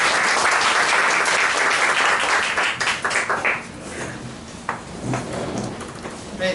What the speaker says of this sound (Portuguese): Uma salva de palmas ao nosso Pai.